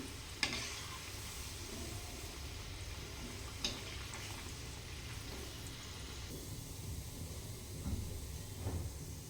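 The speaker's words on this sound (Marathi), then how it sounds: "आता अजून काही वेळ तीस सेकंद आपण हे फ्राय करूयात" Fasting-style kebab patties shallow-fry in a pan of oil, a constant close hiss and crackle running evenly throughout, with a couple of sharp utensil clicks and no talking.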